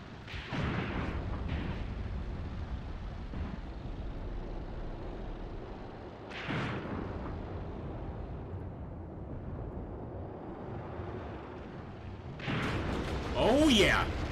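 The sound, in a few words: gun firing in WW2 battle simulation video game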